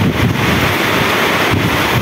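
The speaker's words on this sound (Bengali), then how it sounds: "তো দেখছেন কি ঝড়, হালকা হালকা বাতাস" Wind blows hard across an outdoor railway station on a rainy day, a continuous loud rushing and buffeting against the microphone with no pauses.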